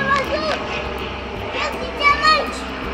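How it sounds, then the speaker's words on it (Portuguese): A passing airplane's engine drones steadily as a broad wash beneath children's and adults' voices chattering over it in an outdoor play setting. "E avião passando. Deixa o avião passar."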